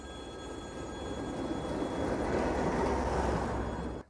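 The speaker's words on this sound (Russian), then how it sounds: "Так как это просто обычная станция, соответственно, здесь ходит обычная электричка." An ordinary suburban electric commuter train runs through a small station in Leningrad Oblast, a steady broad rumble swelling over four seconds with a faint high whine above it, then cutting off.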